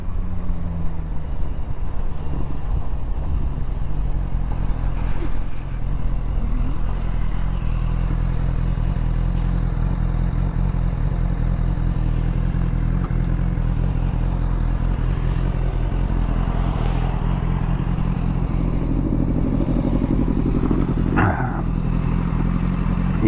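A motorcycle runs close by with a steady, loud low engine rumble, joined by light clatter and a few brief scrapes and knocks, while the drone stays constant throughout.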